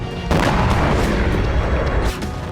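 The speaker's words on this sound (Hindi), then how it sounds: "जिसके सबूत हैं ये विस्फोट।" Heavy explosions and artillery-like booms in the Russia-Ukraine war near Kherson, a loud sustained rumbling roar with thudding bursts lasting about two seconds, no talk.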